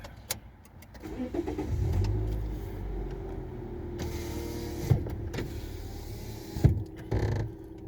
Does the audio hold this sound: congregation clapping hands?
no